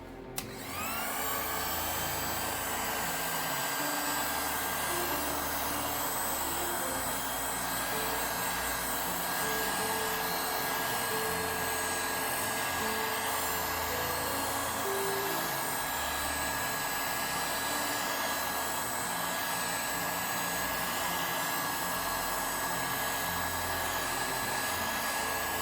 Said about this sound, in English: just do the heat gun again